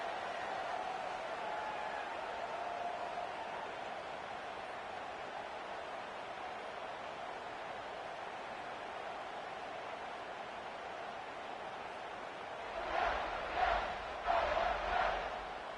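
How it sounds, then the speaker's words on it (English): A college football stadium crowd hums steadily in the game College Football 26, a broad, even roar that swells briefly with a few louder rhythmic surges near the end. "this crowd is buzzing after that last score"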